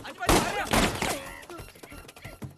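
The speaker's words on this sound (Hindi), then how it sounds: "गोलियां क्यों बरसा रहे हम पर?" Several sharp bursts of gunfire in quick succession, loud and close, with shouting voices mixed in between the shots.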